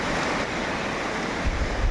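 A broad, steady rush of rain-swollen river water flowing strongly, constant and close, with no voices over it.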